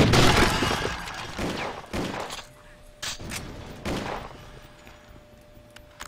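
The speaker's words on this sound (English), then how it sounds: "One pistol shot, really?" Gunfire from the video game Will Rock: loud overlapping bursts of shots at the start, then a few sharp, separate bangs spaced out with quieter gaps between them.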